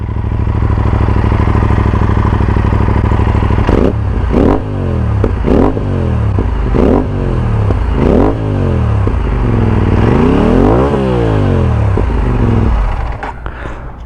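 An Aprilia RS457 motorcycle with a full-system exhaust and no dB killer idling roughly, then revved repeatedly in sharp bursts, the exhaust roaring up and dropping back each time.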